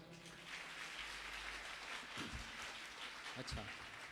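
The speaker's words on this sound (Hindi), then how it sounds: "ताली बजाओ।" An audience claps steadily at a Bhagavat Katha religious discourse in a Gaudiya Math hall in Faridabad. The sustained, close crowd applause has voices mixed in and a few sharper thumps near the end.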